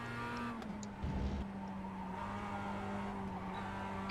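A Mazda MX-5 race car in the iRacing simulator, its engine droning steadily at close range, with a brief tire squeal or skid near one second under the constant motor tone, no voices.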